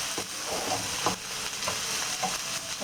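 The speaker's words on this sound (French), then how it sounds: "on a laissé revenir l'oignon" Onion sautés in a pan while cooking a chicken and vegetable mix, giving a steady close sizzle with soft periodic scrapes and clicks from stirring, no voices present.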